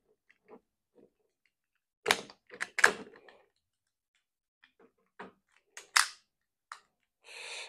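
A plastic G1 reissue Megatron toy gives off sharp, close clicks and snaps as its parts lock into place during transformation, scattered in small bursts against near silence.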